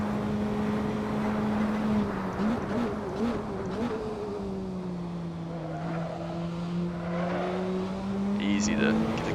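Praga R1 race car driven in Assetto Corsa, its engine holding a steady droning note that rises and dips slightly through corners, with a short tire squeal or chirp near the end.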